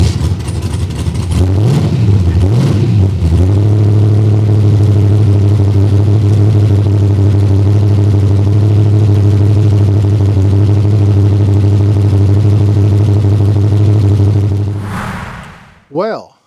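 LS engine swapped into a nitrous-equipped Chevrolet Vega cranks, catches and settles into a loud, close, rumbling idle with a deep steady drone, then cuts off abruptly near the end.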